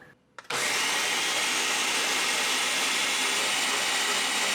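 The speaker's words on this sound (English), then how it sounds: "we're going to blend the mixture for about 3 minutes until it turns into a milky white liquid" After a brief quiet moment, a countertop blender starts up and runs loudly and steadily, whirring through a grain-and-water mixture with a constant high-pitched motor roar that continues to the end.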